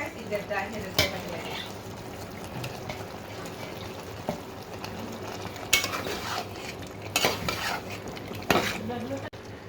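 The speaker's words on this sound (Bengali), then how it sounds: "মাছটা দিয়ে কষিয়ে নিচ্ছি" Snakehead fish sautés in a pan with onion, turmeric, chili and coriander paste, producing a steady low sizzle broken by sharp clinks and scrapes of a utensil against the pan.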